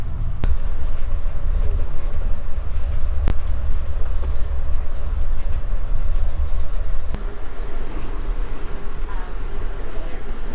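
An Amtrak passenger train rolls along tracks toward Portland, Oregon, heard from inside as a loud, constant low rumble with a couple of sharp clacks from the rails.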